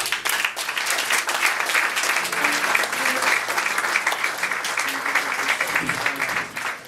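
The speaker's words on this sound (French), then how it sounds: "On l'applaudit un peu, mesdames et messieurs." An audience at a third-anniversary evening event claps warmly, many hands beating in a dense, lively applause that carries on evenly for several seconds, with faint voices mixed in beneath.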